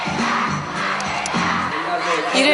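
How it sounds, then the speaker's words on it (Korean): Fans packing the seats of a Korean pop concert hall roar and shout, a loud sustained crowd cheer with whoops rising in waves. "이 환호하는 팬들이 객석을 가득 채우고 있는데요"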